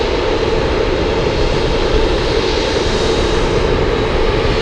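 Boeing 747 jet engines roaring steadily and loudly at Anchorage airport on a gusty day, a continuous dense broadband rumble with no pauses and no voices.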